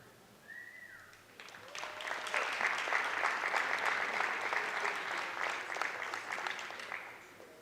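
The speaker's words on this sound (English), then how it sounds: "one last round of applause for our senior basketball players" A school audience applauds senior basketball players, clapping building from quiet to a steady moderate round that holds and then fades slightly at the end.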